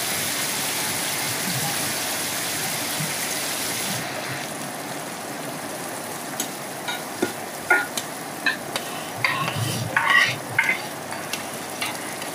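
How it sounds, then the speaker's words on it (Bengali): Chopped onions frying in hilsa fish oil give a steady, close sizzle, joined later by scattered scraping and clinking as they are stirred in the pan. "আমি সাইড থেকে কিছু কুচানো পেঁয়াজ ভাজিয়ে নিচ্ছি"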